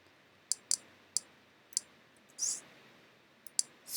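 Sharp clicks from navigating Kodi add-on menus, about eight crisp separate clicks spaced irregularly in near silence, some doubled, plus a short rustling burst.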